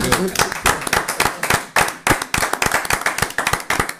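A church congregation claps together in fast, steady rhythm to acclaim the Lord, sharp and close, with raised voices mixed in through the whole stretch.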